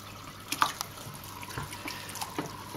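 Murky aquarium water draining out, a faint trickle with scattered drips and small splashes, quiet and close, no talking.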